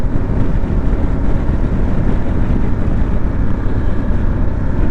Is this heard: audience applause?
no